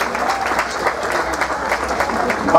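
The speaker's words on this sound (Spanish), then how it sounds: "¡Ese aplauso fuerte!" A crowd gives loud, dense applause for a youth symphonic band from Tlayacapan, State of Mexico, continuous clapping close and full for the whole moment.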